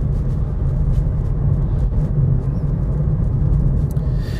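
A car driving up the high street of a small Highland town in Scotland, heard as a loud, steady low road rumble with continuous tyre and engine noise.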